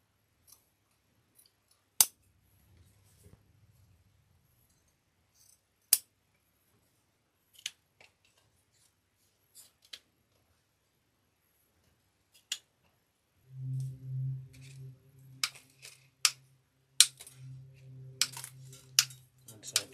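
Sharp scissor snips trim a grapevine wreath decoration, isolated close clicks spaced across quiet stretches, then a quicker cluster of cuts alongside a low hum near the end.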